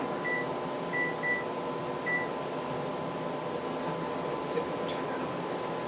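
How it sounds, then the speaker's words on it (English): A kitchen timer beeping a few short, clear tones during corn canning, heard over the steady hum of a kitchen appliance. "Oh, there it is. Oh my God, the timer."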